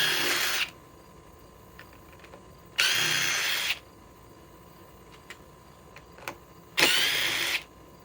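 A DeWalt XR DCF 860 impact driver with a 1.7 power stack drives fasteners into an old tree stump in three loud, rattling bursts, each lasting about a second, separated by quiet pauses with no talking.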